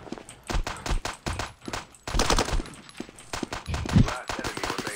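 Rapid bursts of pistol gunfire from the video game Blackhawk Rescue Mission 5, fired with a suppressor. The shots come as repeated close, sharp cracks in quick volleys, with a voice talking over parts of the shooting.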